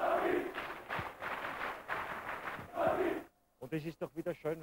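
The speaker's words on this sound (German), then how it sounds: "wenn man diese Schlachtgesänge im Hintergrund hört" Rapid Vienna football supporters chant together in a stadium, a loud, dense crowd roar rising and falling in waves, then breaking off before someone speaks over the background.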